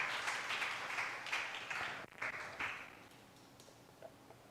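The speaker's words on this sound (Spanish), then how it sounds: "Dale un aplauso al Señor" A church congregation applauds in a dense, steady wash of clapping that briefly dips in the middle, then swells again before tapering off; no voices are heard over it.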